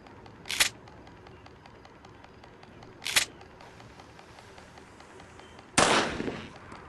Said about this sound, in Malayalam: ഫസ്റ്റത്തെ ഷൂട്ട് ഞാൻ ഇവിടെ കൊടുക്കും.